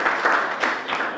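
An audience at an evening gathering claps together in a short, dense burst of applause that stays fairly loud throughout.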